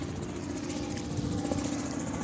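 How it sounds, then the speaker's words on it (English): A helicopter passes overhead above a beach, its steady, loud rotor thrum and engine roar filling the whole stretch without letup. "Hello, helicopter."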